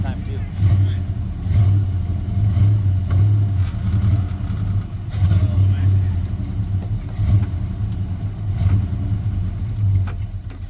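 A car engine idles and takes repeated small throttle whacks, rising briefly in several short revs over a steady low rumble, with people talking throughout.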